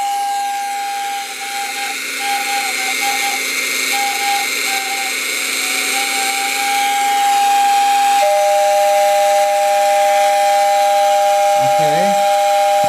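A postwar toy train whistle running after servicing gives a steady, shrill airy tone over a motor whine and hiss, growing louder and shifting to a higher steady pitch partway through, with a brief rising squeal near the end.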